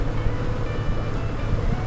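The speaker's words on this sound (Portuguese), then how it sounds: "Isso aqui é moto." A motorcycle cruises along an open road, its engine a steady low drone blended with rushing wind noise, continuous and fairly loud throughout.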